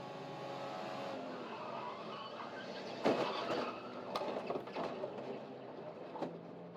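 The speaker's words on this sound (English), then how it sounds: "He's in the barriers. We ride on board with Siegel. Let me tell you, this was a big hit. Listen" Onboard a race car, the engine roars steadily until a sharp impact against the barriers, followed by scraping, rattling knocks and the engine continuing under the clatter.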